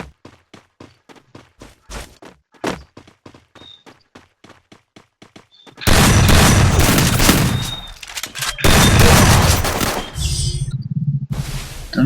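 Gunfire in the mobile shooter Free Fire: a run of sharp single shots in quick rhythm, then dense, loud bursts of automatic fire and blasts that fill the second half, with no speech.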